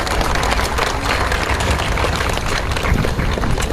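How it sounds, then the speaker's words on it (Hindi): A crowd at an Independence Day ceremony in Sasaram claps steadily through a timed AKM rifle dismantling drill, the applause loud, dense and continuous with no break. "आप लोग थोड़ा ताली बजाएं ताकि लोग का मनोबल ऊंचा रहे"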